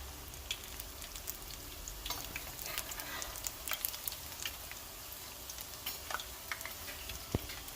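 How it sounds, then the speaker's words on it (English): Jamaican saltfish fritters frying in hot oil, giving a steady close sizzle with scattered crackles and pops throughout and no talking. "Now you're just going to fry these until they're golden brown."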